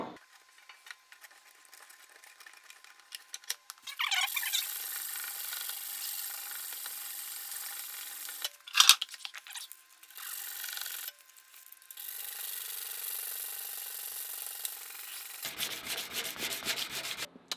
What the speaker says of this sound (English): use this one as a sanding block to kind of get the knife nice and clean before we cut up these scales